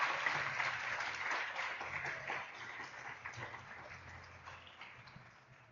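Church congregation applauding during a Spanish-language sermon: a dense, steady wash of many hands clapping that slowly tapers off over several seconds, moderately distant in a reverberant room.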